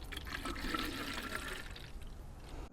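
Universal coolant poured into the cooling system of an 18-year-old Honda Fireblade motorcycle during a service, a steady close liquid trickle and gurgle that runs continuously and fades slightly toward the end, with no talking.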